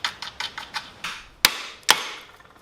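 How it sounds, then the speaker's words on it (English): Heavier hammer striking a seized part on a Honda XL185s engine: a quick run of light metallic taps followed by two sharp, loud blows, close and without talk. "Let's get a heavier hammer."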